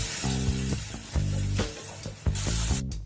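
Spice paste with coriander powder, chilli powder and sugar frying with a splash of water in a pan for a Bengali banana-flower dish, giving loud close bursts of sizzling broken by brief stirring pauses.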